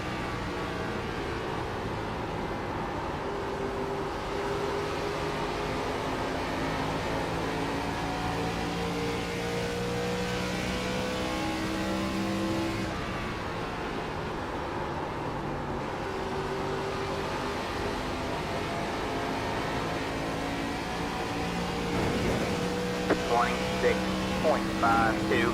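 Race car engines in a racing video game drone continuously, with several overlapping engine tones rising and falling as the cars accelerate and shift. A voice talks faintly beneath the steady roar.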